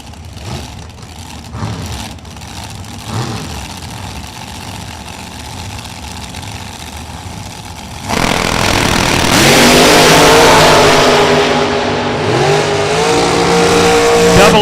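A 2003 Race Tech drag car and a rival launch side by side at Kil-Kare Dragway. Idling and blipping engines give way to a sudden loud, sustained roar as the cars accelerate down the strip.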